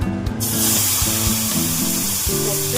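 Poppy seed paste lands in hot oil with black cumin for a Bengali begun basanti, giving a loud, steady spray-like hiss that holds for about three seconds.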